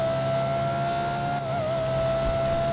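A Lexus LFA tuner car in a video game drones with a steady, loud engine tone held at high revs, with a slight dip in pitch midway and no talking.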